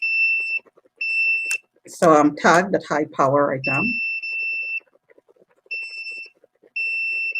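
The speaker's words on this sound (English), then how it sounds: "When it's over 5, it triggers the alarm." Electronic detector alarm triggered by a high reading, beeping in steady high-pitched bursts close by, briefly stopping while a person speaks, then resuming in repeated on-off pulses.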